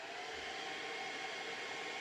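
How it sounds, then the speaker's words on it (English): A steady, even whooshing hum of a hair dryer running continuously up close, with no breaks or talking. "Take your hair dryer"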